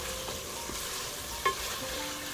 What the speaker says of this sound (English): I'm just stir frying it to give it that nice